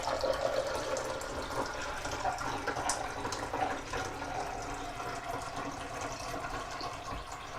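Filtered water poured into the reservoir of a coffee maker, a steady, moderately loud trickling and splashing that runs continuously without a break for the whole stretch.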